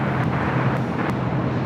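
An airliner rolls for takeoff on runway 25 right at LAX, a steady broad jet roar with a low drone, heard at moderate distance with light wind noise.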